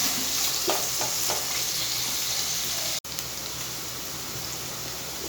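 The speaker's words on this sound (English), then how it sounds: "And again we'll saute this for 1 to 2 minutes." Chicken hakka noodle ingredients sauté in a hot pan with a steady, close sizzle, broken by a few clinking spatula strokes and one brief dropout midway; no one speaks.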